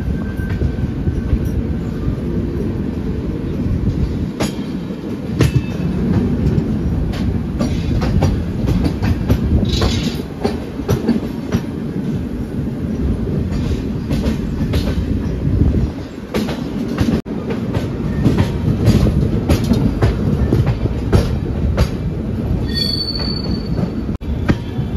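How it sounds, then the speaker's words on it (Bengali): A superfast express train leaves Satna Junction, its carriages giving a steady, loud rolling rumble with rhythmic wheel clatter and occasional high squeals from the rails, continuing without pause and with no talking. "সাতনা জংশন থেকে আমাদের ট্রেন ছেড়ে দিল এই মুহূর্তে।"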